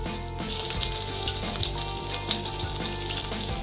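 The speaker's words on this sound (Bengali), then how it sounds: "এইভাবেই সব বেগুনগুলো আস্তে আস্তে ভেজে নেব" Eggplant pieces seasoned with turmeric and salt fry in hot oil in a pan, producing a loud, dense, continuous sizzle that swells in after a quiet start and holds steady to the end.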